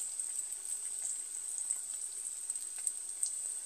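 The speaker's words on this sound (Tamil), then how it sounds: "எண்ணெய் மட்டும் நல்லா காஞ்சதுக்கப்புறம் போடுங்க." Susiyam frying in hot oil, heard as a faint, even, high hiss with tiny crackles scattered through it. The sound is soft and distant, with no talking.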